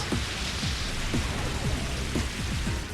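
Rain weather effect in the Pokemon XD: Gale of Darkness video game, a steady broadband hiss of falling rain that fills the whole clip, with soft repeated low blips of game sound underneath.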